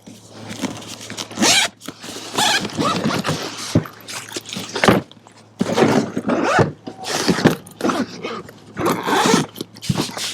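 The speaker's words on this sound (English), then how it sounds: "Again, you're going to just zip it up." A zipper being pulled shut around a Subcube magnetic modular storage box, heard as a series of close, rasping zip strokes in irregular bursts with short pauses between them.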